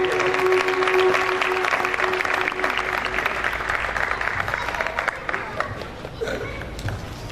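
A church congregation at a Holy Family Home Church Ministries gathering breaks into loud, dense applause that fills the room, strongest at the start and slowly thinning toward the end, with a faint sustained tone underneath.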